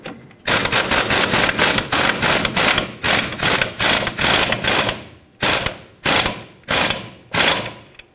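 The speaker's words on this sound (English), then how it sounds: "Put the mounting nut on. 18mm socket, tighten this up." Ratchet with an 18mm socket tightening the control arm mounting nut on a 2007-2014 Chevrolet Silverado 2500 HD, loud close rapid clicking in about a dozen bursts, continuous at first, then separate short strokes near the end.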